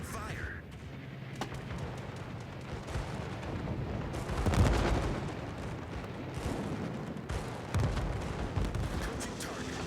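Anti-aircraft and artillery guns in World of Warships fire in heavy booming bursts and rapid rattling volleys, with a louder blast near the middle and voices occasionally speaking over the battle.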